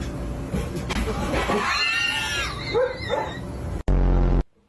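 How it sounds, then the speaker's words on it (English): Indoors, a small dog gives a few short, high yips and whines over a background of household noise, with a brief loud burst near the end. "Bad dog."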